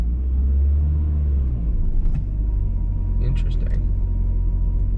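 A high-mileage Saab 9-5 Aero idles unevenly on a cold morning, a low, uneven engine rumble up close with a person talking over it.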